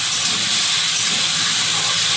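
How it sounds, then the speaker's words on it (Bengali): Pieces of cauliflower fry in hot oil in a pan, giving a steady, loud sizzling hiss that runs without a break through the whole moment. "মাছ ভেজে আর কপিটা চাপিয়ে দিলাম একটু ভাজার জন্য"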